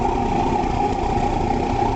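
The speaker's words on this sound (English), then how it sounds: "This was the very first commercially successful oil burning engine." A 35 HP De Lavergne oil engine, an early oil-burning stationary engine, runs steadily up close with a dense, continuous low thudding rumble that holds an even level throughout, with no voices.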